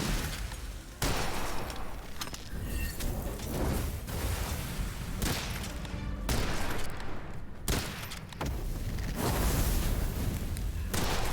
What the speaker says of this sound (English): The artillery guy is still shooting at us.